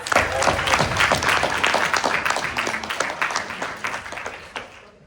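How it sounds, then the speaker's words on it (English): Student senate members applaud their newly elected chairman at a meeting, a dense burst of clapping from a room full of people that holds steady, then tapers off toward the end. "So everyone give them a round of applause."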